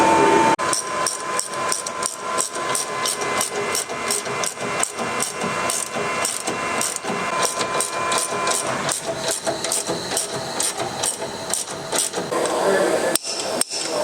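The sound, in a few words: suspension kit being bolted onto Ford Ranger Wildtrak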